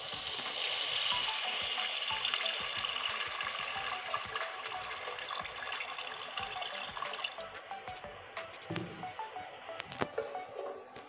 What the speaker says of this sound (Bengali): এবার আমি ঝোল করে নেব, পরিমাণ মতো জল দিয়ে দিচ্ছি।